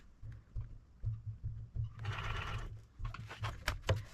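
Sewing machine stitching straight across a fur hunting muff, a soft, quick rhythmic needle thump running steadily, quiet and close.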